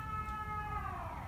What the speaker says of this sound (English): from time to time we're gonna hear a fire truck